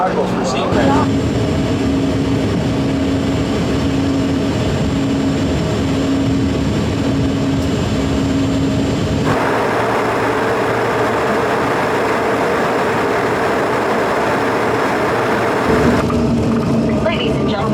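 An airliner lands and taxis at Cleveland Hopkins airport, heard from inside the cabin as a loud, steady engine roar and rumble that shifts in tone partway through.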